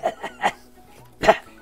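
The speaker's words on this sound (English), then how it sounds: "Coughing. Coughing." Several short, sharp coughs in quick succession, then a pause and one more louder cough, close to the listener.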